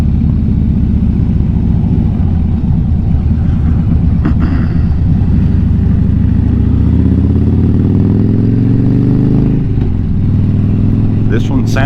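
A 2017 Harley-Davidson Dyna FXDB rumbles with a dirty, low exhaust note, close and loud, rising in pitch as it accelerates near the end, with some wind buffeting over the engine.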